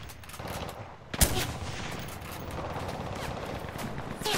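Video game gunfire bursts out in a loud sharp crack near the middle, with rattling mechanical clicks and scattered shots around it and a few quieter pops toward the end.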